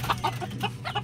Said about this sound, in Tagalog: Ang daming nilang manok.